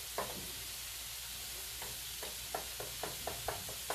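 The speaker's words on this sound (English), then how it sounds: "The shrimp are still cooking." Shrimp fry in a pan with a constant soft sizzle, punctuated by light scraping stirs and taps at irregular intervals, close and fairly quiet.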